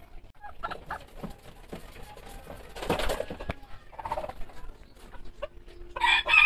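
Backyard Polish breed chickens, including a white hen and a silver lace male, clucking softly in a cage, with a louder rooster crow rising near the end, all close by.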